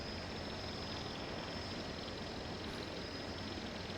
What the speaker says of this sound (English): I am already very tired of hearing the drone